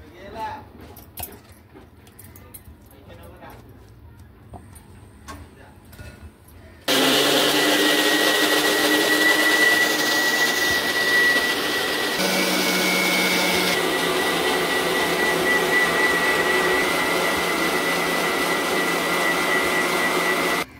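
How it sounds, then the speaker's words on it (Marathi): An electric mixer grinder blends leftover tomatoes for tomato soup in a home kitchen, starting abruptly after some quiet clinks and handling, then running as a loud, steady high-pitched whirring roar that shifts slightly in pitch before cutting off. "आता हे जे टोमॅटो राहिलेत ना हे आपण मिक्सरला लावून घेऊया।"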